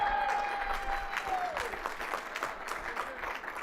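Audience applause at a sports confederation gala dinner in the Western Cape, a dense patter of many hands clapping at moderate distance, with a faint sustained tone fading out early.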